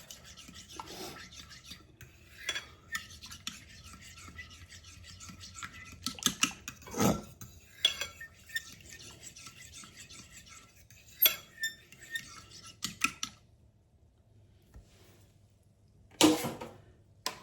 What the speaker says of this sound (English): Now we're just going to whisk our egg into our milk